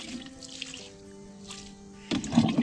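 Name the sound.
water poured onto garden plants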